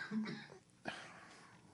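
A quiet cough, then a sharper single cough a moment later, faint and somewhat distant.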